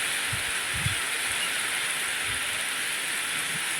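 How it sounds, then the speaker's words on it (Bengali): Heavy rain pours down in a steady, dense hiss that never lets up, with faint low thumps beneath it and no voices. "প্রচুর বৃষ্টি হচ্ছে, প্রচুর প্রচুর"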